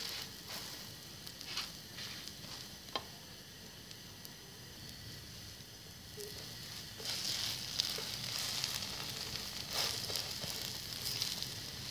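Egg-coated bread frying in a pan on a stove, a steady soft sizzle with light crackles and pops throughout, growing slightly louder and busier toward the end.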